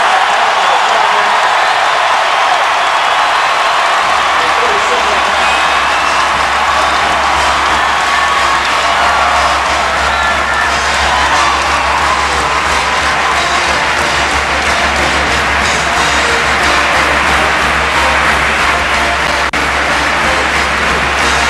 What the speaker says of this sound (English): this crowd is really in the thick of things